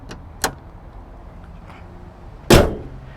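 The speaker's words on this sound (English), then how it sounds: "Closing the hood here of the CHR." A 2020 Toyota C-HR XLE's hood slams shut in a single loud, close thud, preceded by a smaller sharp click or knock, with quiet background between.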